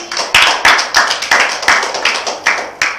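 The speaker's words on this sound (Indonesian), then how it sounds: "Beri tepuk tangan Mbak Dwi." A classroom group claps for a student during a practice teaching lesson, loud, close, steady rhythmic hand claps with no talking.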